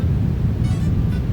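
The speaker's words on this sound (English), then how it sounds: "Very simple. It's just a hallway room tone." Quiet, steady hallway room tone, a dull low rumble of indoor ambience with no distinct events.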